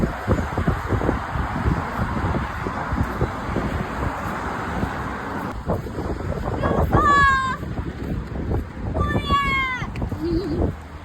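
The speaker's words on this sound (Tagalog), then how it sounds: "It's windy, not cold." Strong wind roars steadily across the microphone at a seaside corniche, with a few high, sliding animal-like cries breaking through near the end.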